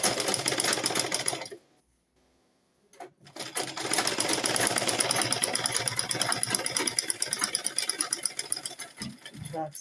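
Sewing machine stitching corset fabric, a fast rattling run of stitches, a brief silent pause, then another long steady run, close and fairly loud with no voices.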